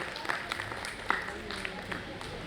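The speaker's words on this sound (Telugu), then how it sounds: "అందరూ ఒకసారి రాయల్ మహిళా సంఘానికి చప్పట్లతో ఆహ్వానిద్దాం" A crowd at a women's association anniversary event for International Women's Day claps to welcome the Royal Mahila Sangham, a brief scattered round of applause with distinct claps, under a speaker's voice.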